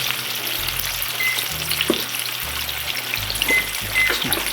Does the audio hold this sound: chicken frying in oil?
yes